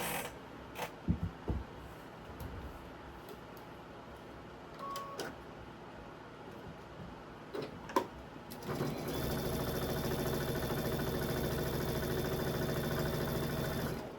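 Domestic sewing machine stitching through the bulky seams of a floral quilt block, with a few short creaks and handling bursts before a steady, continuous motor hum takes over at close range.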